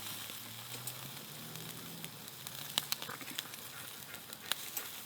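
Brat patties sizzle over a campfire just after being flipped, giving a faint steady crackling hiss with scattered small pops and snaps.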